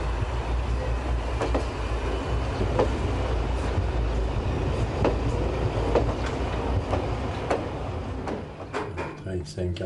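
Train running on the Alps railway line between Marseille and Grenoble, a steady rumble with repeated clickety-clack wheel beats and rattling carriages, heard close and continuous.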